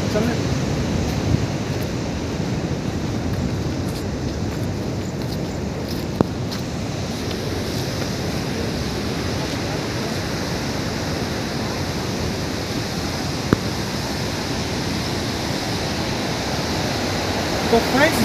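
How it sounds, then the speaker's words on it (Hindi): Mukkha Falls waterfall roaring steadily as a dense, unbroken wash of rushing water heard close, loud and even throughout with no clear voices. "तो फ्रेंड्स यहाँ से आप देख पाएंगे पूरा का पूरा वाटरफॉल"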